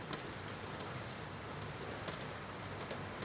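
Steady rain patters against a window, a dense, even hiss with faint scattered drop taps, continuous and fairly soft throughout.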